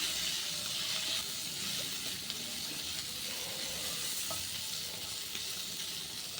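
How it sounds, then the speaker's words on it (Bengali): Flat beans frying in a pan over a high gas flame give off a soft, steady sizzle with faint crackles, heard alone and fairly quiet throughout. "এবার গ্যাসের ফ্লেমটাকে আমি হাইতে রেখে শিমগুলোকে একটু ভেজে নেব ভালো করে।"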